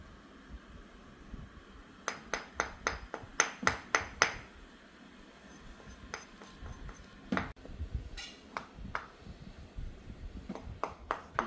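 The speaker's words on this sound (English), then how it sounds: "You need a bigger hammer though." A hammer strikes rock while breaking geodes in search of amethyst, sharp metallic clinks and taps arriving in irregular bursts of several quick hits, with pauses between clusters over faint background murmur.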